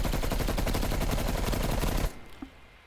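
Rapid automatic fire from a QBZ assault rifle in Black Ops Cold War, a loud, dense rattling burst of evenly spaced shots lasting about two seconds, then cutting off abruptly to near quiet.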